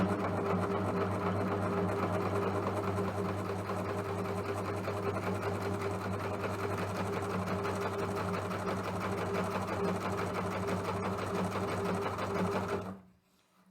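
An overlocker stitches piping into the seam of a zipper bag, a steady, loud mechanical whir running continuously for about twelve seconds before stopping abruptly near the end.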